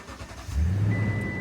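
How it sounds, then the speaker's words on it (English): A truck engine cranks and catches, rising into a deep rumbling idle, close and loud, as a Toyota truck starts outside a 7-Eleven. "I got to start the truck."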